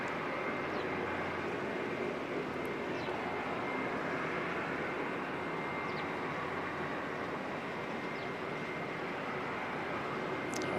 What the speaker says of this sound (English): another 787 pushing back